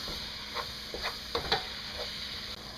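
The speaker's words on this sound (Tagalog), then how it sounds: "At lulutuin lang natin itong ground beef for a few minutes." Ground beef fries in a pan for a lasagna in béchamel sauce, a steady close sizzle with a few soft stirring scrapes and clicks, and no voices.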